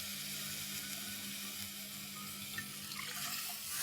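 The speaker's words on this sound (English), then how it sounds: "lower the flame and add in water" Water is poured into a cooking pot of rice over a lowered flame, a steady splashing rush with faint sizzling, continuous and moderately close.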